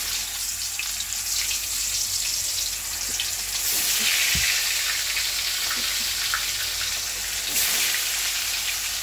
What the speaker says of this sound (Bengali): এই যে এইগুলোতে তেল বেরোবে বেশি, এইগুলো তেল তো, এগুলোতে বেশি তেল ছিটকায়